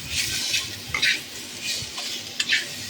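Spices with sugar being stirred in a cooking pan, close scraping strokes every half second or so over a soft, low sizzle.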